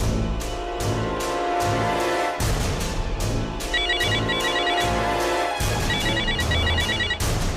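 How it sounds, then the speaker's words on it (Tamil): A mobile phone ringtone plays loudly and continuously in a repeating melodic pattern of bright tones, cycling several times with no talk over it. "இவர் வேற போன் பண்ணிக்கிட்டே இருக்காரு."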